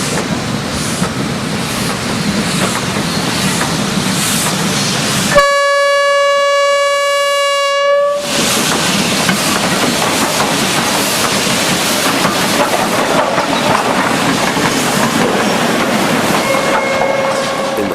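A pair of Chinese QJ steam locomotives arrives from the east after a mountain climb, with a loud sustained whistle blast in the middle and wagons rolling and clattering continuously around it, close and loud.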